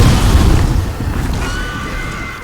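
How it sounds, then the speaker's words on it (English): A dragon's fire breath roars across a bridge in Demon's Souls on PS5, a loud, sustained low rumbling blast that holds steady for a couple of seconds before easing slightly. "Dragon fire."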